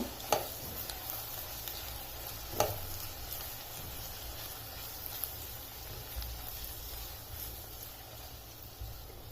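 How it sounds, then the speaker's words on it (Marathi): Chopped onions frying with turmeric and coriander powder being mixed in, a soft continuous sizzle with a couple of sharp spoon knocks against the pan, fairly quiet and close, no voices. "यात टाकते मी आता वन फोर्थ स्पून हळद एक टीस्पून टाकायची धना पावडर याला थोडस मिक्स करून घेऊया"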